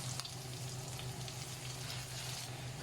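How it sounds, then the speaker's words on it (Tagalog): Onion and garlic sautéing in a pan for creamy chicken pastel, a steady soft sizzle of frying that holds even and continuous throughout, close by with no talking. "igisa lang natin siya hanggang sa maging translucent yung ating sibuyas"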